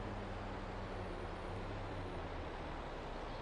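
A truck's engine rumbles with a steady hiss of air brakes in a farming video game, a continuous close noisy wash with no pauses.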